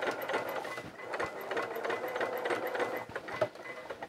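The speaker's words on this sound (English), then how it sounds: "And I'm just going to sew all the way around." Domestic sewing machine running a steady seam around a child's Eden coverall, a continuous close mechanical whir with fine rapid stitching ticks and a brief bump near the end.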